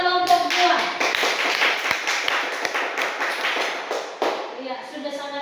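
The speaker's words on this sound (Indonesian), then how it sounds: "berikan aplaus dulu buat kelompok 2" A group of students claps for group 2 in a classroom, a dense run of close, sharp handclaps lasting several seconds, with voices talking over it.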